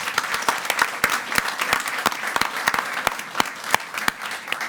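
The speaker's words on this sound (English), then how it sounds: "Let's give her a round of applause." An audience at a school board meeting applauds a newly named supervisor of special instructional services, a steady patter of clapping with sharper individual claps standing out close by.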